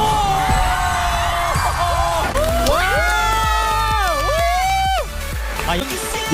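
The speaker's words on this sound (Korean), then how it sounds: "박수!" Studio audience cheering and clapping on a trot singing competition show, loud and close, with excited voices talking and exclaiming over the noise.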